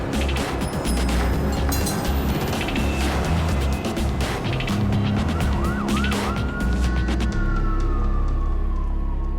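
A siren yelps briefly and then wails under dense, loud scene noise with engine rumble and clatter, emerging more clearly toward the end as the other sounds fade.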